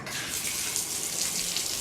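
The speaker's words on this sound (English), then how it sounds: "runs and the water stops. It'll drain out a little bit like normal, but it will come to a complete stop." Water runs steadily from a just-opened shower valve, a continuous close hiss of flow with no break or other sounds.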